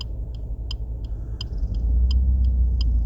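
Suzuki Swift Sport Hybrid BSL Edition with HKS lowering, engine idling then rising in a modest rev in first gear with the clutch in, low steady rumble alongside regular ticking clicks.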